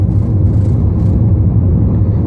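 Steady, loud road rumble from a car driving through Death Valley, California, toward the low point, a continuous low drone with no clear breaks.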